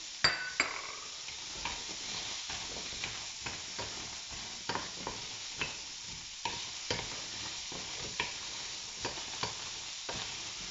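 Dried chillies dry-roasting in a pan while being stirred, with repeated scraping and rattling strokes at a steady rhythm over a faint background sizzle, close and moderately loud, without speech.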